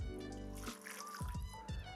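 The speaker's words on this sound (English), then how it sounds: "I'm gonna add in about 100 ml of water." About 100 ml of water is poured into chickpea hummus, giving a brief, quiet trickle and light splashing heard up close, with no talk over it.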